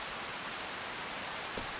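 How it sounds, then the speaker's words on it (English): Rain falling outdoors on a farm, an even, dense hiss of drops that holds steady for a couple of seconds with no voices. "So it's 7 o'clock and it's raining."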